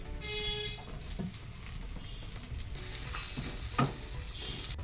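Tomato goes into a hot pan for a small-potato dum and crackles with a continuous close sizzle and stirring scrapes, plus a faint distant car horn partway through.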